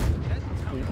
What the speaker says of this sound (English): The cannons!